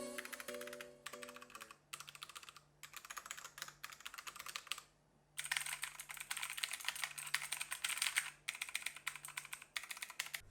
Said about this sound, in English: Here's a noise test between the Cherry MX browns and an aftermarket blue switch